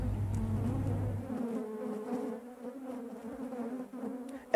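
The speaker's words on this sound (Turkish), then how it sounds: "Çünkü bulunduğumuz alanda 250 kovan var, milyonlarca arı var." Dense, steady humming drone of millions of honeybees swarming around an apiary of 250 hives, a continuous close buzz with individual bees whining past, no voices.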